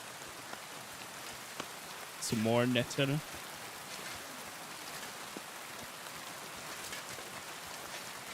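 Rain ambience in Kingdom Come: Deliverance 2, a steady soft patter of rain on surfaces throughout, with a brief spoken line partway through.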